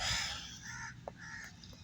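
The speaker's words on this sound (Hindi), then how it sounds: "कौवे होते हैं यहाँ पर" Crows caw a few times at a rural railway spot in a Pakistani village, faint and somewhat distant over a steady outdoor background hiss.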